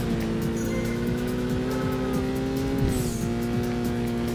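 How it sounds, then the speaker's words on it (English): Car in the PS2 racing game Burnout 2: Point of Impact scraping along a guardrail during a race, a steady loud engine drone with grinding, squealing scrape running continuously throughout. "whilst I am scraping the guardrail"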